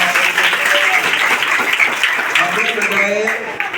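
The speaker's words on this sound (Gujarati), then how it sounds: "જોરદાર તાળી પાડો ભાઈ" An audience at a school talk breaks into loud, sustained applause, a dense wash of many hands clapping close by throughout, with voices calling out over it.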